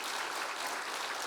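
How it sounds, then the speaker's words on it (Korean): Church congregation applauding a choir after a revival service performance, dense steady clapping filling the whole short stretch, fairly even and moderately loud with no voices over it. "우리 큰 박수 한번 해주시기 바랍니다"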